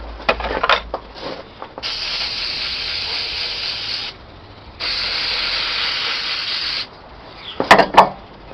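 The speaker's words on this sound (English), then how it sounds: "I'm just gonna give this a quick little clean with some brake cleaner before I put this on." Brake cleaner sprays onto a truck engine part for an old 7.3, in two long, loud, hissing bursts of about two seconds each, with a short pause between them and light handling clatter before and after.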